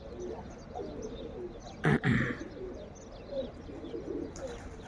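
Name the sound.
pigeons cooing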